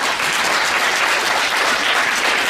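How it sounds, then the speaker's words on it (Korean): An audience applauds after a disability awareness lecture at a regular assembly, with dense, loud, steady clapping throughout and no voices. "다시 한번 큰 박수 부탁드립니다"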